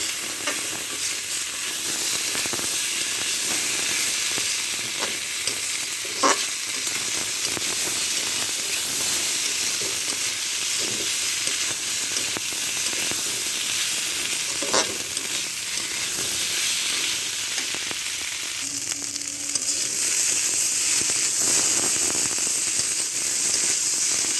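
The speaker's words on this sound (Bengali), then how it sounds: "লবণ আর হলুদ দিয়ে আমি এভাবে ভেজে নেব।" Potatoes fry in hot oil with salt and turmeric, giving a loud, continuous hissing sizzle close by, broken by occasional light scrapes of stirring, with no talking.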